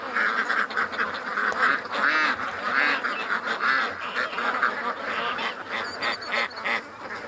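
Ducks near a muddy creek honk and quack continuously in an agitated chorus, several birds calling over one another at close range, loud and unbroken with no talk.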